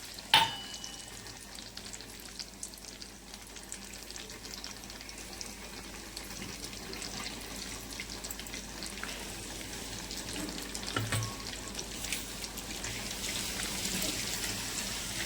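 Whole cardamom pods, cinnamon bark and bay leaf fry in hot oil in a clay pot, the first step of a goat mutton curry. A steady, soft sizzle and crackle continues throughout, with a brief clink near the start.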